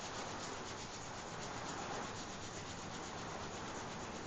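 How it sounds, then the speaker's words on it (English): Palms of two hands rub together quickly, a close, continuous dry brushing hiss that holds steady and even from start to finish. "Now let your hands rub together a little bit faster."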